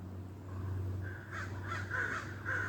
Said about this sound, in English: They're probably playing around. Crows playing around.